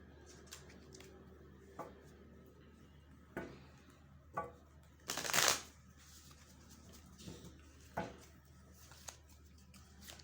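Tarot cards being shuffled by hand, heard as one brief, louder riffling burst in the middle with scattered soft taps and card clicks before and after, in a quiet room with no talking.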